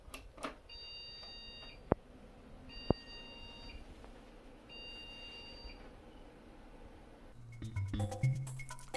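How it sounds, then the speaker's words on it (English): PC motherboard POST error beeps from a freshly assembled desktop at power-on: three evenly spaced, steady electronic tones, each about a second long, fairly faint over a low room hum, followed by rustling handling noise. "Yeah, 3 beeps,"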